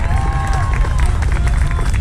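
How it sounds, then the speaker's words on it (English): Crowd applause and cheering at a high school softball event, continuous clapping and crowd noise close by, with voices mixed in. "Let's give a big round of applause to Michaela Oster."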